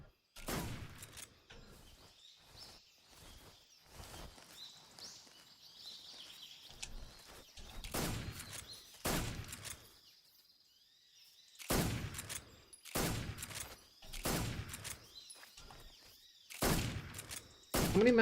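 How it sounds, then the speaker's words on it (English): Gunfire in the stealth game Metal Gear Solid 3, sharp bursts of shots fired in irregular clusters with quiet gaps between, over a faint ambient jungle bed with bird-like calls. "Let me shoot bullets."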